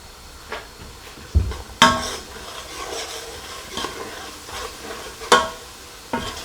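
A spoon stirs ginger and garlic into a red kidney bean curry in a pan, giving soft scraping strokes over a low sizzle, with a few sharper knocks against the pan. The kitchen is otherwise quiet and nobody speaks.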